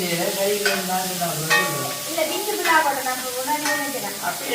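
Onion and green chilli sautéing in a pan, with spatula scrapes over a gentle sizzle, while a voice speaks over it almost throughout.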